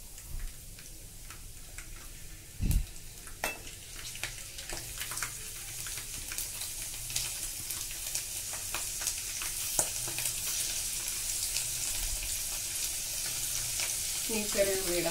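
Garlic and curry leaves sizzle and crackle steadily in hot oil for a thuvara sambar, a dense continuous fry with a brief louder clatter near the start and faint stirring ticks throughout.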